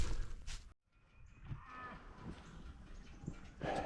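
Cattle moo repeatedly at a farm where Mashona bulls are kept, the lowing calls close and loud over outdoor background noise, with a brief silent gap early on.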